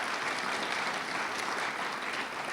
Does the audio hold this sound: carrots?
no